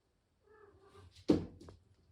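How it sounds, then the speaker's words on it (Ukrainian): A domestic cat meows softly, then gives one louder, sharper meow near the microphone in a quiet indoor room. "І котики."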